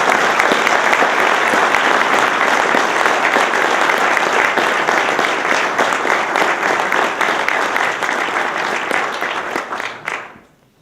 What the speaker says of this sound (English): let's give a round of applause to the Providence Journal and to Ed